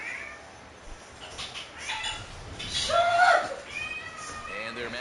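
A cat in a house lets out a short rising meow, close and moderately loud, under ongoing speech and the sound of a baseball video game.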